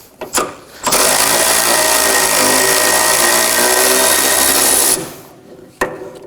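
A 17mm socket on an impact or power tool spins off a sway bar link nut on an Acura MDX, a loud sustained whirring burst of about four seconds. Short clicks come before and after it.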